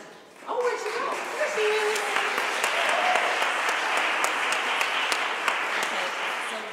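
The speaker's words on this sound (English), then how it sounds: "I want to applaud our singers, because you guys did such a great job." Audience applauding singers at the close of an opera masterclass, with steady, sustained clapping and scattered cheers over several seconds and brief voices mixed in at the start.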